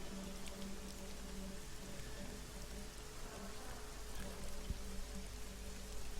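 Steady heavy rain pours down continuously, a dense wash of drops with no voices, and a faint low rumble underneath.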